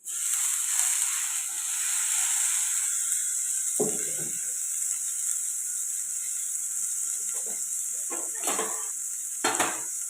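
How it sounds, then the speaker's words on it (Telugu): Masala and tomato frying in a pan for chicken curry, with a steady close sizzle and hiss throughout and a few brief scrapes and clinks of a stirring spoon near the end. "ఇలా ఫ్రై అవుతున్నాయి కదండి మసాలాలన్నీ"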